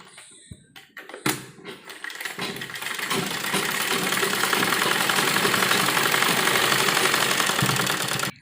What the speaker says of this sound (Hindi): तो ये सीधी सिलाई हम इस पर लगाएंगे। डबल सिलाई हम इसको करेंगे।